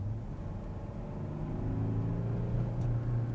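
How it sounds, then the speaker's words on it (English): 2016 Porsche Cayenne Diesel accelerating under throttle, a low steady engine rumble with a faint rising drone, heard from inside the cabin with no talk. "so I'm gonna give it the gas here."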